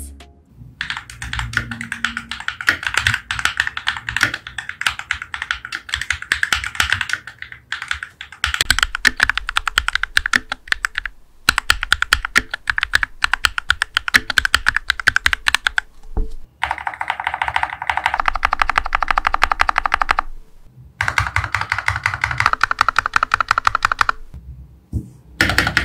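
Rapid clacky typing on a modded mechanical computer keyboard during a typing test, a dense, fast stream of close keystrokes with brief pauses, loud and without speech.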